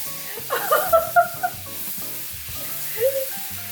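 Tomatoes sizzling and frying in a hot pan at home, a steady soft hiss under a few brief clinks and stirring sounds, with quiet background noise and no clear talk.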